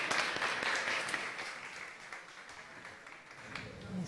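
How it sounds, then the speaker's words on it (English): Summit audience at the South Summit Sandbox Stage gives a round of applause, dense clapping that starts strong and gradually thins and fades toward the end, with a slight swell again at the close. "Round of applause"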